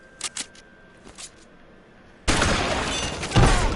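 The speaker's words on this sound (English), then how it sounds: "Reload all the way, Cole." Gunfire in L.A. Noire on PS4: a few faint, short shots, then a sudden loud sustained burst of rapid gunfire after a quiet stretch.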